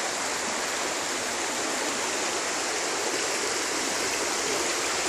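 Floodwater rushing through the streets during a heavy flood in Elche, Spain, a steady loud broadband roar of churning water with no break and no voices.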